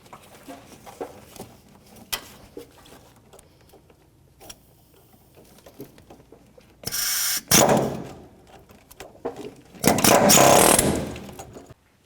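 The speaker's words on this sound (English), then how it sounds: "So we're going to just chisel that nut off and then take the shock out" Hammer-and-chisel work on a rusted front shock nut of a 1997-04 Dodge Dakota, heard as a few loud metallic strikes in bursts near seven to eight and ten to eleven seconds, with quiet shop ambience between.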